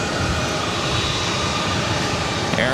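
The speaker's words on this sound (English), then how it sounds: "The 777-300ER coming up from Dubai, flight 237, heading to runway" Boeing 777-300ER jet airliner arriving at Boston Logan from Dubai, a steady, loud broadband engine roar that holds throughout without a break.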